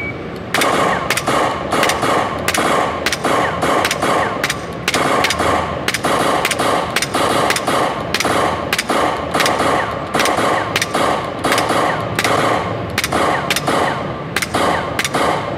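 Laser training gun shots fired during a shooting drill, a long run of sharp, evenly spaced loud cracks in quick succession, close up and alone.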